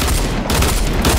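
Sniper rifle fire in Fortnite Battle Royale, a loud dense burst of gunfire that fills the whole short moment with booming shots and no pause.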